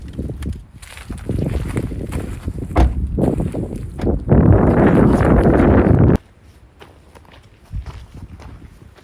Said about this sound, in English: It's real windy here